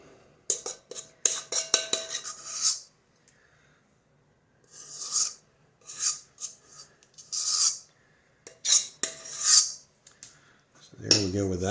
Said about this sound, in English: And then I mix it around a little bit when it's in the pan as well.